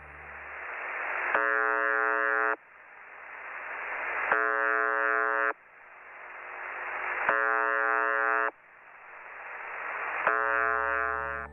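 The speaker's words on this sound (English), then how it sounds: "is a shortwave radio station that broadcasts a short, monotonous buzz tone" The Buzzer shortwave radio station sounds its monotonous buzz tone, which repeats about every three seconds. Each short, harsh buzz rises out of a steady hiss of radio static that swells between tones.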